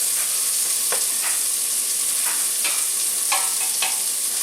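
A spoon stirs and scrapes browning sausage in a pot for chili, giving repeated scraping strokes over a steady frying sizzle, close and moderately loud, with no talking.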